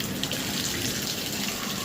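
Cold water runs through a newly installed home shower for the first time, a steady broadband spray that hisses evenly throughout with no voices.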